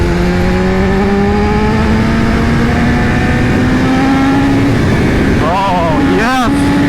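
A BMW S1000RR motorcycle fitted with an Akrapovic exhaust runs loud and close, its engine pitch climbing steadily through a long rev before two sharp blips near the end.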